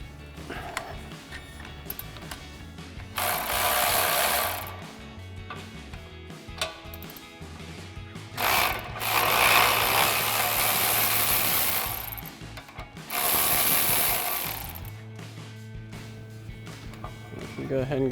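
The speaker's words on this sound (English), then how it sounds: "grab our 15 mil socket on our ratchet and get our caliper bracket off" A ratchet with a 15 mm socket works the caliper bracket bolts on a 1999-2002 Mustang, giving bursts of fast clicking separated by quieter pauses, with a person talking at times.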